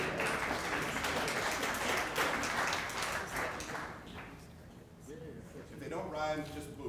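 A summit audience applauds with dense, sustained clapping that fades after a few seconds, followed by a voice speaking over the thinning sound.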